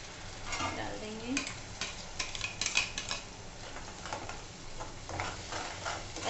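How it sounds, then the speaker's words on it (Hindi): Ground tomato is stirred into a masala in a pan, giving a soft continuous sizzle with scraping and light clinks of a spoon against metal, close and fairly quiet, without speech. "अच्छे से मिक्स कर लेंगे इसे।"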